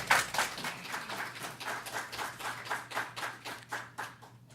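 An audience at a city council meeting gives a short round of applause, a thin, sparse patter of hands clapping in a loose rhythm that stays fairly quiet and fades toward the end.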